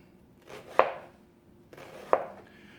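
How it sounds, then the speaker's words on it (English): Knife slicing food into thin slices for bruschetta on a board: two crisp, close chopping strikes about a second apart, each with a soft scraping lead-in. "Go ahead then, make some thin slices like this."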